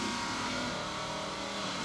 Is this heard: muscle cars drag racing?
yes